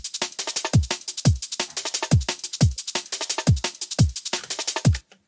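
A drum and bass drum pattern programmed in Ableton, with fast crisp hi-hats and snares over punchy kicks in a tight, driving rhythm, loud and clean and alone, stopping abruptly at the end.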